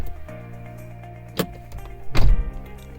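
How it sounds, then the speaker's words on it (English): A car door unlatches with a sharp click and then a heavier thunk as it swings open, over a steady idling hum. "Going to open the door"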